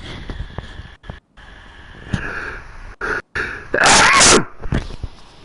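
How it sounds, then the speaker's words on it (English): Sniffles and a sharp intake build up to one loud, close sneeze, followed by brief rustling and breathing. "I gotta sneeze"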